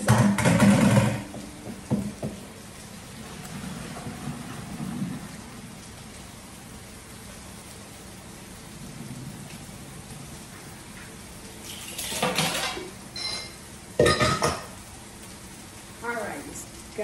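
Cooked pasta draining from a pot, a hissing rush of pouring water that rises and falls, with bursts of splashing and talk over it.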